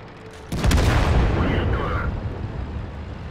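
A tank cannon fires once in a tank battle video game, a single loud boom with a long rumbling tail fading over a few seconds.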